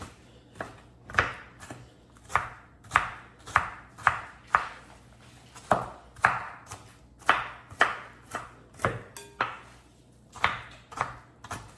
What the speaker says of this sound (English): I'm gonna cut up some onion right now.